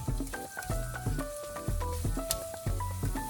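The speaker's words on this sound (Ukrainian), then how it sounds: "на ту ж оливкову олію після смаження, пасируватись цибульку і часник." Chopped onion and garlic sautéing in olive oil left over from frying chicken breast, a steady close sizzle with stirring, heard alongside tonal background music and no talk.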